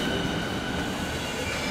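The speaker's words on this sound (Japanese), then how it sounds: "まずは列車に乗って移動していきます" Interior of a moving train in Germany: a loud, steady rumble of wheels and carriage noise with no pauses.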